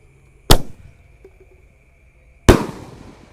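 Two sharp, loud roman candle shots fire from a large four-shot bazooka-style firework launcher at night, each a sudden blast trailing off into a brief hissing decay, spaced about two seconds apart with faint pops between.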